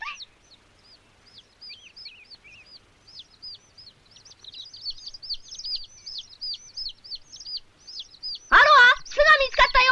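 A fallen baby bird chirping for food, a rapid series of thin high peeps running continuously at moderate distance, followed near the end by a louder burst of bird calls.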